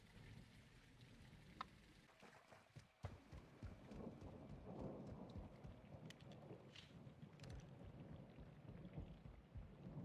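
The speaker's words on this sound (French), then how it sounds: "il pleut à verse." Heavy rain pours in a Call of Duty MW2 campaign scene, a dense steady wash broken by sharp thunder cracks near the start, with scattered clicks and thuds over the downpour and no talk.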